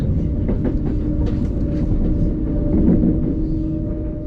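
Southern passenger train heading toward Gatwick Airport, heard from inside the carriage as a continuous loud low rumble and hum with faint clickety-clack of wheels over rail joints.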